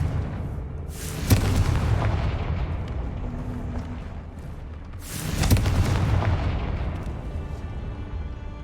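Two heavy booming blasts from the Confringo curse in Hogwarts Legacy, each a sudden loud explosion about four seconds apart with a long rumbling decay.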